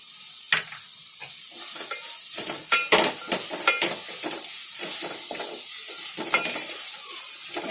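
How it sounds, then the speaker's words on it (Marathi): Masala fries in a pan with a steady sizzle while a spoon scrapes and stirs it in irregular clinks and taps, close and clear with no talking. "आता मस्त मसाला छान भाजलाय."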